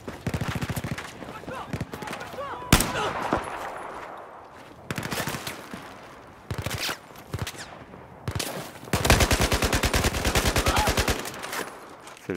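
Rapid automatic gunfire from the Battlefield 4 campaign set in Baku comes in repeated loud bursts, separated by brief lulls filled with game ambience and scattered shots.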